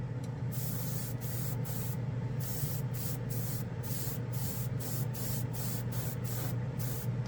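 Generic chrome spray paint hissing from an aerosol can onto bare plastic, a close, continuous spray with short rhythmic gaps in the high hiss.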